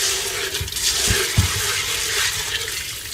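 Water sloshes and swirls steadily in a container as black beans are rinsed, with a few soft thuds of beans shifting underneath, continuous and close.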